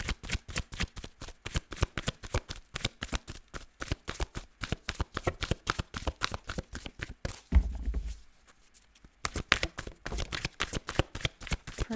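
Tarot cards shuffled by hand, a fast, rhythmic riffle of many crisp slaps, close and clear, briefly pausing after a soft thump before resuming, with no voices.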